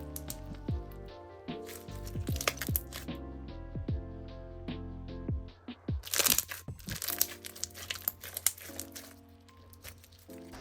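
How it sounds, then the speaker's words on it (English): Crunchy clear bead slime being squeezed and stretched, giving a steady run of close, crisp crackles and pops from the beads and bursting air bubbles, with a denser burst of crunching partway through. "As for the ratio of beads to slime, I would say this one is on the less crunchy side."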